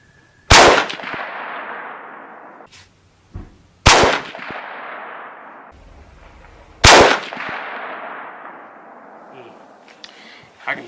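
.35 Whelen rifle firing 200-grain loads at a 100-yard target: three loud, sharp shots spaced about three seconds apart, each with a long echoing decay, plus a faint thump between them.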